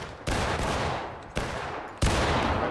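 Musket fire in the Civil War video game War of Rights: three sharp, booming volleys at uneven intervals, each leaving a rolling tail of echo.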